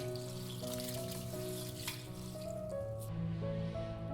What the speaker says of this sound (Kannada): ಇವೆರಡೂ ಚೆನ್ನಾಗಿ ನೀರು ಹಾಕಿ 2ರಿಂದ 3 ಸರಿ ವಾಶ್ ಮಾಡ್ಕೊಂಡು ಬರೋಣ